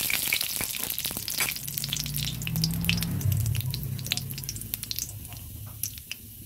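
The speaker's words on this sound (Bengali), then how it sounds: "গরম তেলের মধ্যে কালো জিরা ফোড়নটা দিয়ে দিলাম।" Nigella seeds dropped into hot oil left from frying eggplant and potato for a tengra fish curry, giving a loud, steady close-up sizzle and crackle with dense spitting pops.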